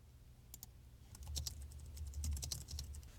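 A short, soft burst of typing on a computer keyboard enters a note, quick irregular key clicks that start sparse and then run in a faint steady patter, close and alone.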